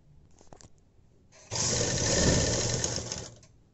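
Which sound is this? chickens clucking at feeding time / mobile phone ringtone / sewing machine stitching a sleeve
sewing machine stitching a sleeve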